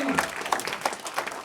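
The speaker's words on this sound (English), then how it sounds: "How about a big round of applause for our dancer?" Hypnosis comedy show audience applauding a dancer, a dense wash of many hands clapping close by, steady and loud throughout the short burst.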